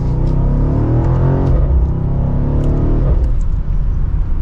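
A BMW M850i xDrive Gran Coupe accelerates hard from second gear, its engine note climbing steadily as a loud, close interior drone. The pitch then settles after an upshift, with no talking.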